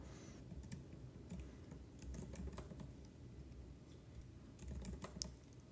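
Computer keyboard typing, a steady run of quick key clicks with short pauses between bursts, fairly faint over a low background hum.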